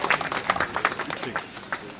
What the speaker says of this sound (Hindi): तालियां बजा दे भाई बेटी के सम्मान को